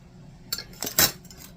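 Chopped onions are tipped into a dish for pantry nachos, heard as a few quick, close clinks of a utensil against the dish within about a second, with no speech.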